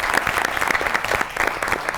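A studio audience on a Pakistani comedy talk show claps steadily, a dense patter of many hands held at an even level for the whole stretch, with no voices over it.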